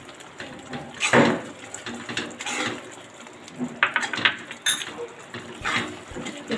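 Sugar being stirred by hand into mingi paag, a sweet preparation for Janmashtami, with irregular spoon scrapes and clinks against a pot, close and moderately loud.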